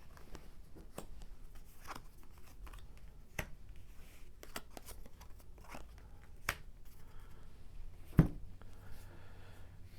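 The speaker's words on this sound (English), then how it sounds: "Shuffle the power cards" Quiet papery handling of King of Tokyo power cards, soft riffles and snaps with a few sharper clicks, close by in a calm room, no voices.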